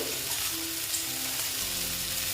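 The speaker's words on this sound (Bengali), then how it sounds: "দেখো জল দিয়ে দিলাম" A small splash of water goes into a hot pan of potato, bitter gourd and pumpkin. It produces a brief, dense hissing sizzle that stays steady and close, with no voices.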